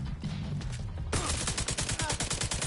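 Rapid automatic gunfire in The Division 2, a loud close burst of evenly spaced shots that starts abruptly partway through after a quieter stretch.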